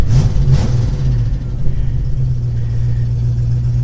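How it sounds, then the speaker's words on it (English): A 1967 Ford Mustang engine idles with a deep, steady rumble, given a light touch of gas early on, loud and close with no talk. "and here it is, giving a little bit of gas"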